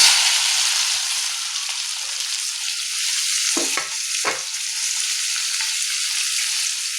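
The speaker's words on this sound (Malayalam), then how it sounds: "മുളക് മൂത്ത ശേഷം നമുക്ക് മാങ്ങ ഇട്ട് കൊടുക്കാം" Mango pieces are stirred into hot oil with fried dried red chilies, giving a steady close hiss of frying, with a couple of scraping stirs from a spoon against the pan.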